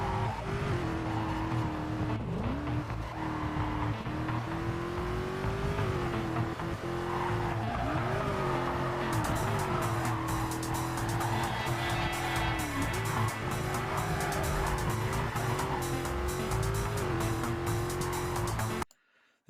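Race cars in a video game race roar with engines rising and falling, and tires squeal through repeated skids. The sound is loud and continuous, with no talk over it.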